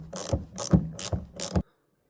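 A ratchet turns a nut on a 2009 Honda Civic 1.8 L petrol rear shock absorber, four quick close clicking strokes in an even rhythm before stopping into silence.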